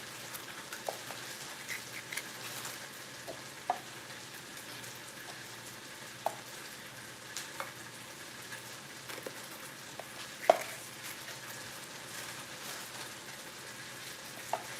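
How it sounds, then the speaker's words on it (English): Sweet peppers cook in a pan with a faint, steady sizzle, broken by scattered soft pops and crackles spread over a quiet fifteen seconds, with no one talking. "we put in the sweet peppers inside here now. We want the sweet peppers to cook."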